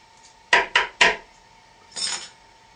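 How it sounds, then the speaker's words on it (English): One B1 tablet pressed and crushed between two metal spoons: three sharp, close crunching scrapes in quick succession, then a softer, longer grinding rub after a pause. "One B1 tablet, which is on the spoon, ready to be crushed with another spoon."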